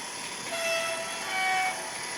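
Faint mechanical rumble with a thin whistle-like tone, like a small model locomotive's sound system, steady and quiet throughout.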